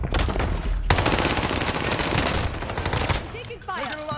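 Rapid, loud bursts of automatic gunfire in Call of Duty Warzone, dense overlapping shots that thin out near the end into whistling, chirping game effects.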